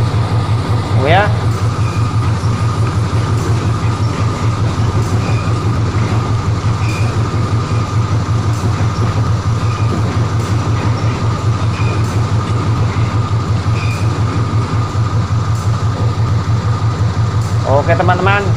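An Indonesian railway locomotive reverses during shunting, giving a loud, unbroken engine drone and rumble throughout, with brief high metallic squeals near the start and the end.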